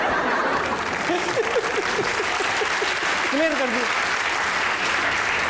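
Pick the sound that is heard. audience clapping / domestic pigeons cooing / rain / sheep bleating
audience clapping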